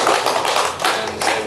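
An audience claps together at a gathering of the Permara organisation, a dense, steady patter of many hands filling the short stretch with slight surges, fairly near and with no voices over it.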